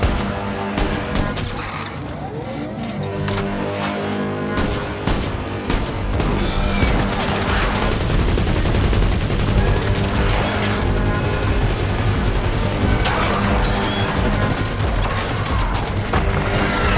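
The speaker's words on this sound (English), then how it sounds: "I immediately opened fire and went into combat mode." A movie scene fills with dense, loud gunfire and clattering mechanical bursts, a continuous barrage layered with booms and metallic rattling.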